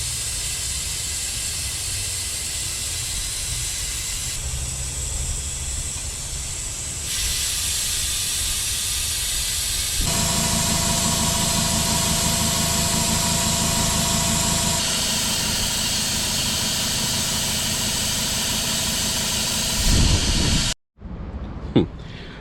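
A brake bleeding tool runs steadily on a car's brakes during a Honda rear caliper and big brake build, a loud continuous hiss and motor drone that shifts in tone partway through, then cuts off abruptly near the end.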